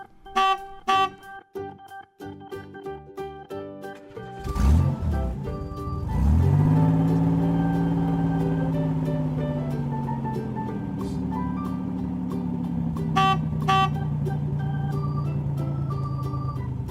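Cartoon truck from Peppa Pig, with a run of short bright tones at the start, then a loud engine starting up and holding a steady, slightly wavering drone for the rest.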